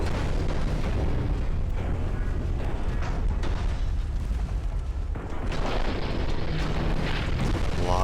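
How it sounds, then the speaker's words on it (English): In the naval game Ultimate Admiral: Dreadnoughts, a torpedo explodes on a warship's deck, a loud, continuous roar of booming blasts and rumbling gunfire sustained throughout without speech. "torpedo explosion on deck"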